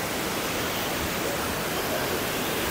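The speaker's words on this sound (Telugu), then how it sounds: "వాటర్ ఫాల్స్ దగ్గరికి వచ్చాం" A waterfall at Plitvice Lakes National Park in Croatia roars as a dense, steady broadband rush of falling water, close and unbroken, with no talking.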